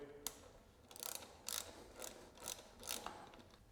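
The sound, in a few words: bike wheel axle being tightened to torque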